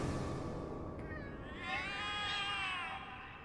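Cats in The Cat Lady game meow and wail in long, drawn-out, rising and falling cries, one overlapping another, moderately loud over a low background hum.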